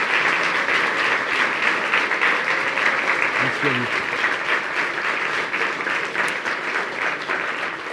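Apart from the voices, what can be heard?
audience applauding loudly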